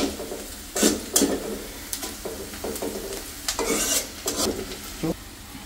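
Red amaranth greens stirred and fried in a pan: a bright sizzle is broken by sharp scrapes and clinks of the spoon against the pan, coming in irregular bursts up close.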